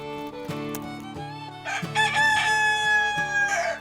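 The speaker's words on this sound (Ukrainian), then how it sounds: "Чує, півень пісні виспівує." A rooster crows loudly and clearly, its drawn-out cock-a-doodle-doo rising and holding, with a few shorter calls before it.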